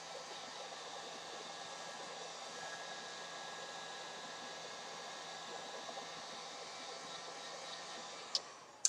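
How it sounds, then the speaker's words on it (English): A heat gun blows continuously while re-warming a Worbla thermoplastic armor piece, a steady airy hiss with a faint hum, quiet and close, ending in a couple of sharp clicks. "we're going to just take our heat gun again and re-warm it back up"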